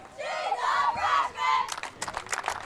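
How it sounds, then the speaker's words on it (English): A softball team's players chant in unison from the dugout at a high school district playoff game, then break into several sharp claps near the end, loud and close. "And even the Lady Panthers here are clapping their hands and doing that cheer."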